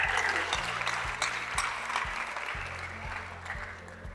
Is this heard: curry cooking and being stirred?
no